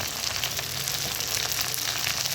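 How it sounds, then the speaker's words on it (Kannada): Cinnamon and cloves sizzle in hot oil in a pan for chicken with mint, coriander leaves and green chillies, a steady close frying hiss that runs alone throughout. "ಚಕ್ಕೆ ಮತ್ತು ಲವಂಗ ಹಾಕ್ಕೊಂಡು ಚೆನ್ನಾಗಿ ಫ್ರೈ ಮಾಡಿ"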